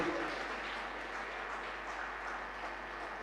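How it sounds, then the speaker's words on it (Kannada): An audience at a Vishnu Sahasranama youth gathering claps steadily for about three seconds, a dense, even applause heard from a little distance, welcoming a speaker to the Kodandarama stage. "ಎಲ್ಲರೂ ಚಪ್ಪಾಳೆ ಮುಖಾಂತರ ಅವರನ್ನು ಈ ವೇದಿಕೆಗೆ ಆಹ್ವಾನಿಸಬೇಕು"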